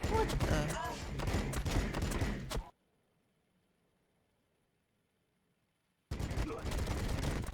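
Dense sci-fi gunfire and battle noise from the strategy game Warhammer 40k Battlesector, loud and continuous under spoken unit voice lines, cutting to near silence midway before the firing resumes.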